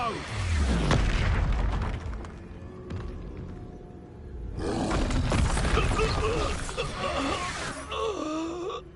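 Booming spell blasts from Hogwarts Legacy, the Expulso explosion, going off repeatedly amid game effects and voice grunts, loud and close with rumbling low ends and crackling debris.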